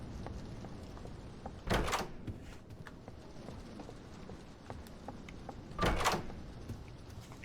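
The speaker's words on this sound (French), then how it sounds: "il faut que j'arrête de fouiller les tiroirs" Drawers being pulled open and rummaged through in the Roblox horror game Doors, two loud wooden scraping slides separated by quieter clicks and knocks, with no talk.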